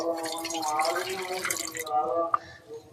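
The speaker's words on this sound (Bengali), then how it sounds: "হাঁড়ির মধ্যে দিয়ে দিচ্ছি জল" Water poured into a cooking pot for soaking tamarind, making a close, ringing trickle and gurgle that fades, then one sharp drip near the end.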